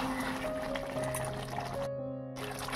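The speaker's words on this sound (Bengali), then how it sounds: "ভালোভাবে মশলাটা এই জলের সাথে কষিয়ে নেব ভালো করে।" Chicken and masala being sautéed in their own released water in a pan, a continuous close bubbling, frying sizzle with steady low hum, briefly dropping out in the middle.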